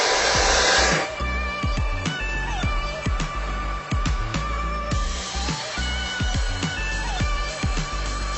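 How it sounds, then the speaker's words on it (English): A handheld blow dryer drying hair gives off a loud, steady whooshing roar close by, running continuously with no talking over it. "So I'm just going to turn my blow dryer on."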